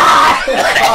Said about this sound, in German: Einmal kurz alle schreien.